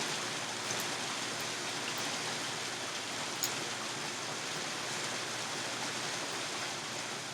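Steady rain falls outdoors during a canoe trip, a dense, even hiss that stays loud and unbroken throughout, with only a faint tick or two standing out from the wash.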